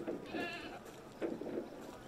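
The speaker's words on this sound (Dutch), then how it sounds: "Dat zijn geiten." Goats bleat in the open-world game Assassin's Creed Unity, a couple of short wavering bleats over ambient background, with faint low activity between them.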